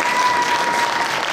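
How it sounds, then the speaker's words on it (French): A crowd at a cosplay contest applauds the participants, a brief, dense burst of steady clapping from many hands with no voices on top. "Je crois qu'on peut tous et toutes les applaudir"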